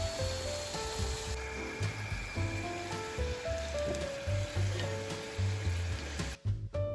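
Meat-filled chebureki pies fry in hot sunflower oil, giving a steady close sizzle and bubbling throughout. A few clinks and low kitchen sounds come through, and the frying cuts off abruptly near the end.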